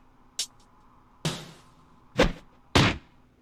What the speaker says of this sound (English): Will punching the wall work?